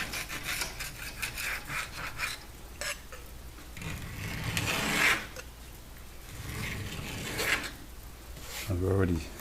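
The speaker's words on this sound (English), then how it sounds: "we could start by scraping off some of this loose paint" Loose paint is scraped off a rusty Sub-Zero 511 refrigerator, making rough back-and-forth rasping strokes, close and fairly loud, in irregular bursts.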